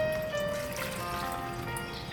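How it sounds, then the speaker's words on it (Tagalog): Water trickles and splashes as it is poured onto mackerel in a cooking pot, a steady close liquid stream with small bubbling tones, lasting a couple of seconds. "ilagyan natin yung tubig dyan sa isda."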